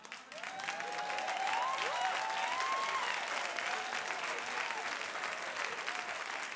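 Congregation in a church applauds and cheers with sustained, dense clapping that swells early and holds steady, with raised voices and whoops riding over the applause.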